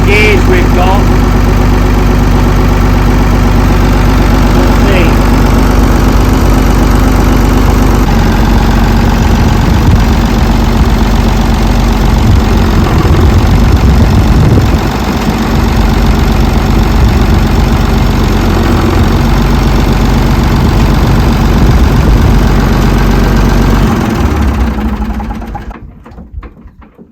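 A Manitou forklift engine runs at a steady, loud diesel idle with a continuous low rumble and knocking vibration throughout, then cuts out near the end.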